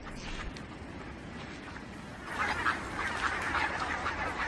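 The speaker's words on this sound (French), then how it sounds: "Canards, cygnes et foulques se rassemblent autour des dernières étendues d'eau encore épargnées par la glace." Ducks, swans and coots gather on the last patches of unfrozen water, their honks and quacks swelling into a busy chorus over a steady background wash.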